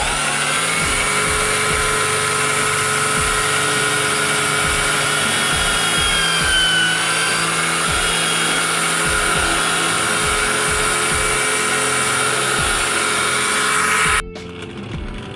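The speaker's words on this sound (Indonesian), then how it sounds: "Oke sahabat, langsung saja kita bor ya." Power drill boring into a coconut shell to shape a ring, a steady loud whining drone with a rough grinding texture that runs continuously, then drops away near the end.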